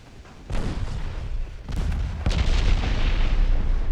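Warship guns firing in the naval strategy game Ultimate Admiral Dreadnoughts: deep rolling booms arrive in several overlapping salvos, each one heavy and reverberant, ending in sustained thunderous rumble.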